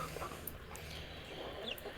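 Pet chickens cluck softly close by, a steady low murmur of little clucks and chirps over a noisy backyard background, with no talk during the moment.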